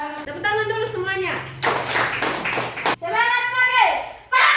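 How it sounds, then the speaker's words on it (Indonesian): A class of children in a school lesson claps hands in a burst of dense, scattered applause, set between children's voices talking and calling out loudly nearby. "Tepuk tangan dulu semuanya."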